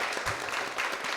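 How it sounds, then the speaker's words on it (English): Keynote audience applauding in a hall, a short, faint, even patter of clapping with no voices over it. "let's give Dr. Melvin another round of applause for putting this together."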